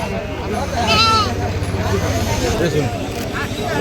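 Goats bleat at a crowded livestock market in Joypara, Dohar, Dhaka. One clear, wavering bleat rises close by over constant talk and crowd babble, with fainter animal calls in the background.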